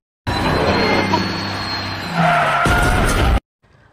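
A bus crashes in a monster film scene. A loud, close tire skid runs for about two seconds, then an engine roars and a harsher screech follows before the sound cuts off abruptly.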